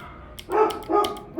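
Dogs barking in the background of a home workspace, two or three sharp barks in quick succession at moderate distance, with no talking.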